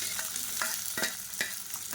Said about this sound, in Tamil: இப்போ இது கூடவே வெங்காயம் பாருங்கள் நல்லா வதங்க ஆரம்பிச்சிருச்சு